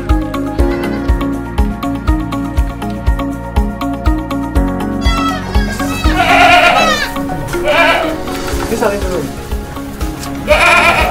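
Goats bleat repeatedly while being fed at a farm attraction, their calls rising over rhythmic background music and people talking nearby.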